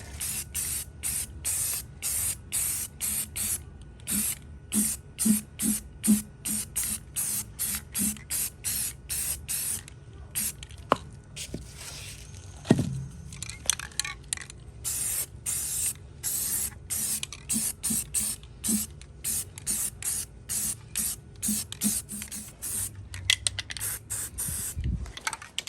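Spray primer going onto a rusty Atlas industrial tool cart after light sanding, heard as repeated short hissing bursts close to the nozzle, with brief pauses between passes.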